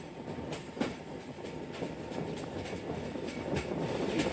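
Sialkot Express rolling through Guna Kalan station without stopping, heard from on board as a steady rumble with regular clickety-clack of wheels over rail joints, loud and continuous.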